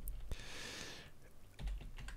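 Keys clatter on a computer keyboard during a quick burst of typing, up close and fairly steady for about a second, followed by a few scattered single clicks and a thump.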